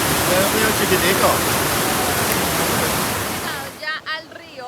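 A river in Colombia's Llanos rushes with loud, steady broadband water noise for most of the stretch, easing near the end as a few short voice sounds come in.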